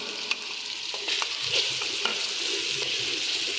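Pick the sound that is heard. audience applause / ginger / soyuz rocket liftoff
ginger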